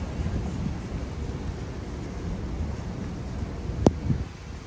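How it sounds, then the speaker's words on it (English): Gusty wind roars across the microphone outdoors on a rainy day near the High Line and the Vessel in New York City, a constant rumbling wash, with a single sharp knock near the end. "It's windy and rainy here."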